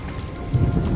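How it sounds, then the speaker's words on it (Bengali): Heavy rain pours down in a cartoon storm effect, a loud, continuous patter with a deep rumbling undertone and no voices. "সাথে শুরু হলো ঝুম বৃষ্টি।"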